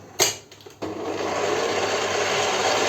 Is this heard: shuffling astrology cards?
no